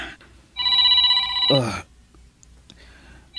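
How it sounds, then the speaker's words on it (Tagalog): A cellphone rings with an incoming call in an Ilocano-language morning drama, a loud steady electronic ringtone lasting about a second before cutting off, followed by quieter sounds and faint voices nearby. "Ihawat mo man ti cellphone ko. Amangan nun ni Jordan ti umawawag."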